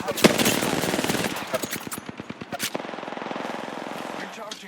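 Rapid automatic gunfire in Apex Legends rattles out in a dense burst, then continues as a quicker run of evenly spaced shots before fading, loud and close.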